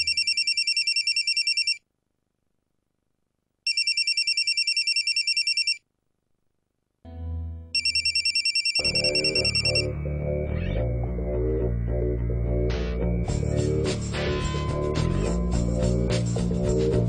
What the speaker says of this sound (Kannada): ಫೋನು ಬಂದಿದೆ